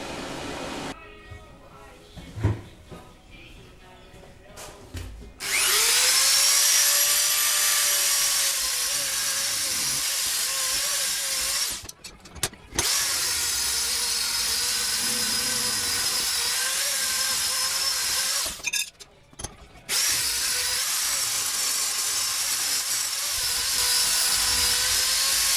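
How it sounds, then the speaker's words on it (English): A power tool polishes a weld on a motorcycle exhaust: after a few quiet seconds with faint sounds, a loud high-pitched whine runs in three long bursts separated by brief pauses, close and steady. "So I'll give that a polish up now."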